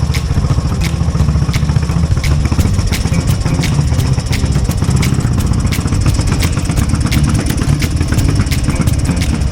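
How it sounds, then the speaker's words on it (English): A 1950 Norton 16H motorcycle, a 75-year-old British single, runs steadily in a yard. Its loud, continuous engine note has regular sharp ticks throughout, with no talk. "With the bike now running, it's time to take it for a cheeky ride down the yard"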